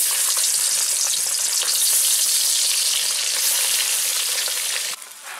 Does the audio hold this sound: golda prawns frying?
yes